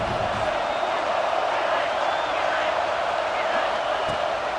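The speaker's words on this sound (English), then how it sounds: "This crowd busting the decimal meter and trying to will a 4th down stop." A packed college football stadium crowd at Michigan versus Georgia roars continuously for a 4th down stop, a dense, loud, unbroken wall of noise.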